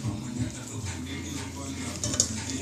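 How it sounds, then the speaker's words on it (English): Pasta is stirred into tomato sauce in a pot, giving a steady close scraping and sloshing with faint sizzling and occasional utensil knocks against the pot, continuous throughout. "Then we stir carefully for them to mix and blend together."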